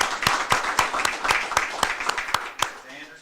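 A brief round of applause at a school board of education meeting, with sparse, separate hand claps spaced irregularly for a few seconds and fading out at the end, moderately loud in an indoor room.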